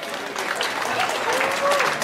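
Crowd clapping at the Vilnius Capital Days opening ceremony, continuous and fairly even, swelling slightly toward the end, with faint voices mixed in.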